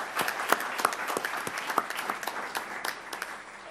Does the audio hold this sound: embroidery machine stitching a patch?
no